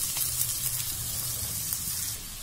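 Steady, continuous sizzle of chopped onions frying in hot oil, close and fairly loud, with no talking.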